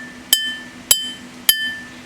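Three bright, ringing strikes on a drinking glass, evenly spaced about half a second apart, each leaving a clear sustained tone that fades slowly in a quiet room.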